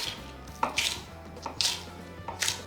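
A knife slicing spring onion on an angle on a board, three crisp cuts spaced about a second apart, close and quiet, with no talk.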